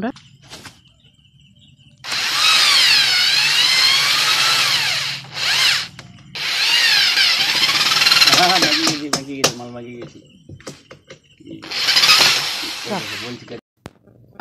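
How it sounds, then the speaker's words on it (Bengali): A power drill works on doors in a house under bathroom renovation, with three long whining bursts and short pauses between them, loud and close. "এই দরজাগুলো এখন ওই ড্রিল করছে"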